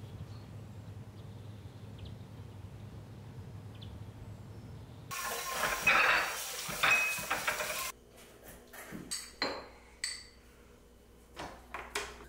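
Light clinks and taps of dishes and cutlery while a simple breakfast is set out on new plates in a rental house kitchen in Yangyang, Gangwon-do, South Korea, scattered short knocks after a brief burst of running water, quiet and close.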